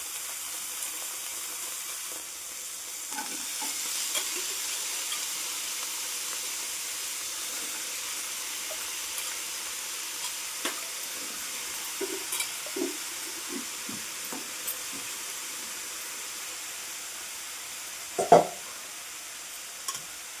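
Thinly sliced, peeled bottle gourd pieces softening in a pan give a soft, steady sizzle and hiss, with a few small clinks and stirring knocks near the end.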